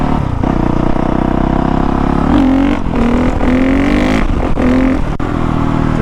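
A 2019 Honda CRF450R dirt bike engine runs loud and close, revving up and down repeatedly in rising and falling bursts over a constant roar.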